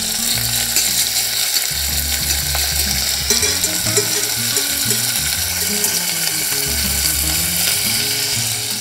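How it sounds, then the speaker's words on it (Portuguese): Bacon fries in a pan with a loud continuous crackling sizzle, mixed with steady rhythmic mechanical ticking throughout. "E aqui conseguimos fritar um pouco o bacon"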